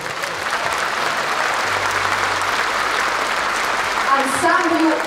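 Loud, sustained audience applause for the Loktev Ensemble's 85th anniversary concert on a main stage, a dense continuous clapping with a brief voice and tones emerging near the end.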